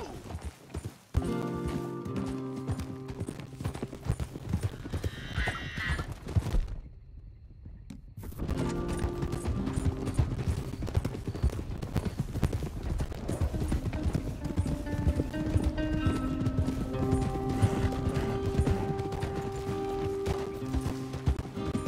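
In the video game Red Dead Redemption 2, hooves clip-clop in a steady rhythm alongside music, with a horse whinnying; the sound briefly drops out before the galloping and music resume.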